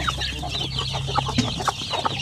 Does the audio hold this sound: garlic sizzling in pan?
no